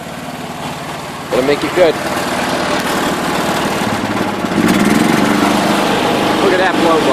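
A Kohler K241 single-cylinder engine on a John Deere 210 garden tractor runs steadily up close, a loud continuous mower-like drone that swells slightly near the end, with someone talking briefly over it.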